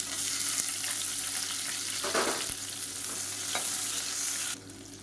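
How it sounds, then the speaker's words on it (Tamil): Two sliced onions fry in a pan with cinnamon, cardamom and cloves, giving a steady close sizzle broken by scraping stirs from a spoon, with no talking. "வெங்காயம் வதங்குறதுக்கு உப்பு சேர்த்துக்கலாம்"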